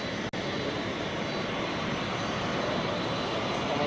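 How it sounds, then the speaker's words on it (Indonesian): An airplane from Saudi Arabia arrives at Halim Perdana Kusuma airport, its jet engines a loud, steady broadband roar that fills the whole stretch without a break. "Satu pesawat dari Arab Saudi sudah tiba di Bandara Halim Perdana Kusuma."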